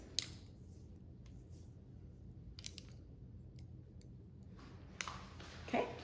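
Scissors trim the hair of a woman over 60 in a salon haircut, giving a few faint, sparse snips over steady room hum with no talking.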